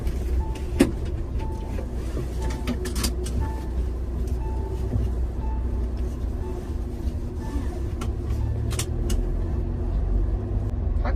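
Car cabin while driving, with a steady low engine and road rumble throughout and occasional light clicks and knocks inside the vehicle.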